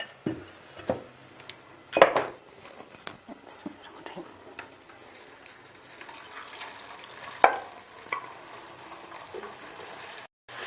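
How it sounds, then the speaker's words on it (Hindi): A paratha fries in a pan with a steady, low sizzling hiss, and a few louder clinks and scrapes of utensils stand out while a person talks over it. "अब हम दूसरे पराठा तल लेते हैं"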